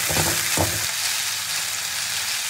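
Garlic paste and spices frying in hot oil in a pan for a malai prawn curry, a steady close sizzle with a few louder spatters early on, no talking.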